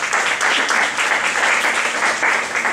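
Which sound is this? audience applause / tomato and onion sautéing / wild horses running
audience applause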